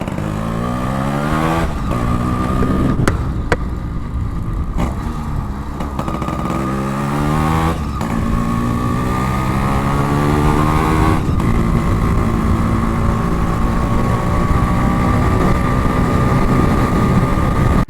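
A Yamaha RX 135 motorcycle engine runs close by, a loud, continuous two-stroke drone whose pitch repeatedly climbs and falls with the throttle.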